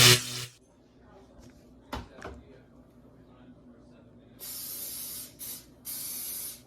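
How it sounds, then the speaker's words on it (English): Spray bottle misting in short hissing bursts: one at the very start, then two longer sprays near the end, with quiet handling noises and a voice in between. "I have to spray all of them"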